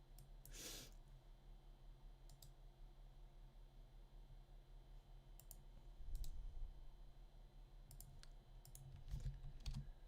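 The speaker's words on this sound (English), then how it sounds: "You just gotta keep typing it in different ways." Keys tapping on a computer keyboard in short scattered bursts, faint against a steady background hum, with slightly louder clusters toward the end.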